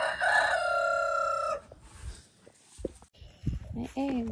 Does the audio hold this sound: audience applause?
no